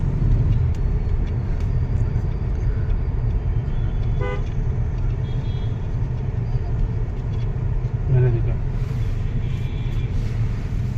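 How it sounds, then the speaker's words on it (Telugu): A Lexus RX500h hybrid driving on the road fills the space with a steady, loud low rumble of road and engine noise, while brief horn toots from traffic sound twice in the background. "ఇప్పుడు వీడియోలో లక్సస్ వెహికల్ మీద డ్రైవ్ చేస్తున్నాడు"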